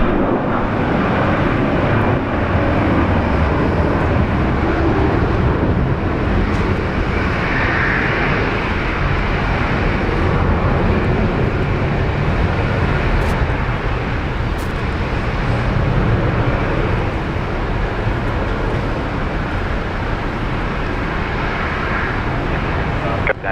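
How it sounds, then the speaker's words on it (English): A French Air Force plane takes off at Brisbane Airport, its engines roaring loudly and steadily for the full stretch, a broad sustained rumble and whine that slowly shifts as the aircraft climbs away. "With that takeoff, it looks like they were fully laden too."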